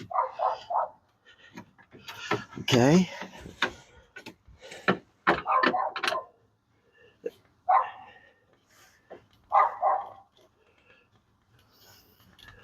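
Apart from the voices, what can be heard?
dog barking constantly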